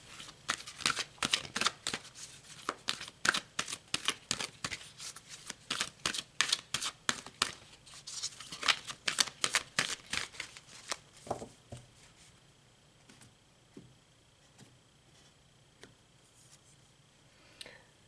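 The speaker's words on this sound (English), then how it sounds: "So let's pull some more cards." Tarot cards are shuffled in quick, crisp riffles that repeat for about ten seconds, then fade to a few faint card taps and near silence.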